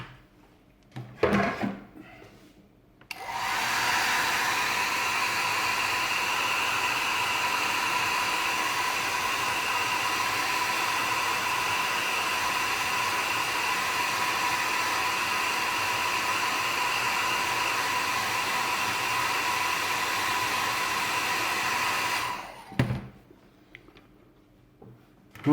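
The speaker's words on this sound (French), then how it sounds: "donner un petit coup de sèche-cheveux maintenant" A hair dryer blows steadily for about twenty seconds over a 1/24 Aoshima Pagani Huayra model car. Its close, even whoosh comes after a few handling clicks, and a few more clicks follow once it switches off.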